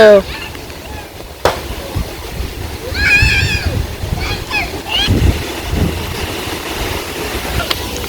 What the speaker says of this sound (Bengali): আর ওইদিকে এত বাতাস